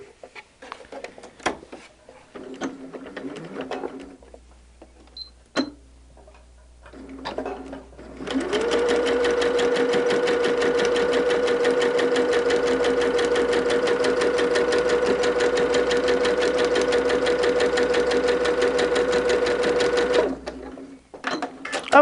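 Sewing machine stitching a seam along the edge of a fabric piece, running as a steady close, fast rhythmic whir for about twelve seconds after a few quieter handling sounds and brief starts.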